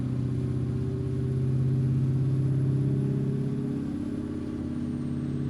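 Custom Peterbilt truck with a two-stroke engine in American Truck Simulator, held at its RPM limit in high gear: a steady, loud droning engine note with dense low harmonics that swells slightly mid-way, no voices.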